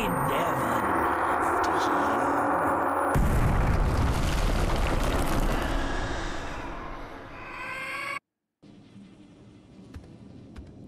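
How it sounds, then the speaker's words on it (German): A loud, rumbling video game explosion erupts and roars for several seconds, fading into crackling debris before cutting to quieter game ambience. "damit uns die Explosion nicht erfasst? Schnell weg!"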